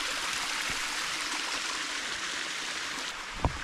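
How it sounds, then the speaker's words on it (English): A creek beside a campsite flows in a soft, continuous babble, with a brief knock near the end and no speech. "The best part is I can listen to the creek all night."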